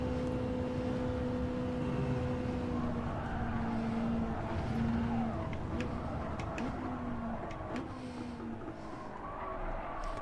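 A race car in the Gran Turismo 7 game, its engine droning steadily with changing pitch as it brakes and accelerates, accompanied by tire squeal and skidding.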